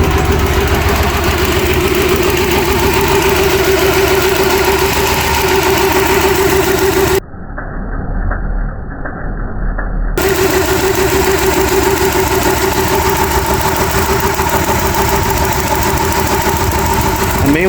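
A 2004 Chrysler Town and Country van idles steadily after starting, a loud continuous engine drone with a short muffled dropout partway through.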